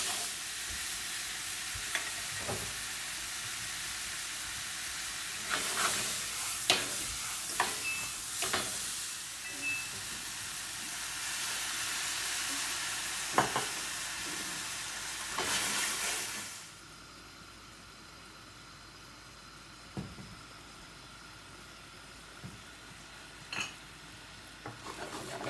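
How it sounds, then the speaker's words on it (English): Bananas frying fast in a pan over high heat, a steady sizzle punctuated by clinks and scrapes of stirring, the sizzle dropping off sharply about two-thirds through, leaving a quieter stretch with occasional utensil taps. "Then we're going to throw our bananas inside. Going to cook this a little bit fast."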